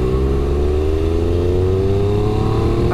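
A Triumph Speed Triple RR motorcycle with a triple engine pulls hard in fourth gear from about 30 mph. Its engine note rises smoothly and steadily, loud and close, with wind rush.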